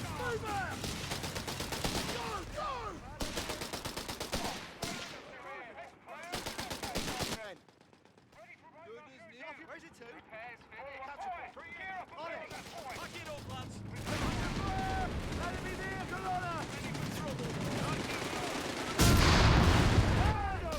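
Flak guns and small-arms gunfire crackle through a Company of Heroes 3 battle between British forces and their opponents, with dense repeated bursts that thin out briefly mid-clip before returning, a heavy blast near the end, and a voice talking over much of it.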